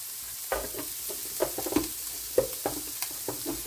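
Corned beef hash fries crisp in a pan, giving a soft, steady sizzle broken by scattered scrapes and stirring clicks, with no voices.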